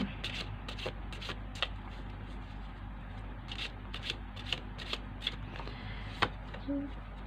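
Tarot cards being shuffled, a run of quick papery riffles and soft slaps repeating in short bursts, close and quiet over a low steady hum.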